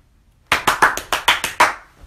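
Seven sharp hand claps ring out in a quick, slightly uneven rhythm inside a church, loud and close after a brief silence, with no talking over them.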